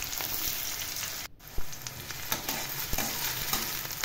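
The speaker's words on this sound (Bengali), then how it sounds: "এটা ভালোভাবে ফুটে আসলে এর মধ্যে দিয়ে দেবো কোচানো পেঁয়াজ।" Chopped onions fry in hot oil with cumin, pepper and clove for a beetroot curry, giving a close, continuous sizzle broken by several sharp clinks and scrapes of stirring, with no talking.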